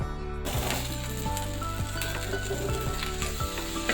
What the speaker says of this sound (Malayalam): നമ്മുടെ വെണ്ടയ്ക്ക ചേർത്ത് ഞാൻ അരിഞ്ഞു വെച്ചിരിക്കുന്ന വെണ്ടയ്ക്ക ആഡ് ചെയ്ത് കൊടുക്കുവാണ്